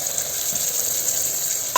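Mutton sizzles in a pan with onion, cumin and crushed garlic, a loud continuous close-up frying hiss with faint stirring and no talk.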